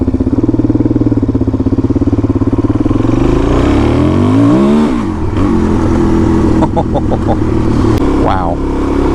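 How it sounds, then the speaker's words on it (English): A motorcycle fitted with a FCR39 pumper carburetor idles loudly and close by with a steady, rapid thumping throb that dips briefly midway and then settles again. "Just primed it twice with the accelerator pump. And it idled, started right up."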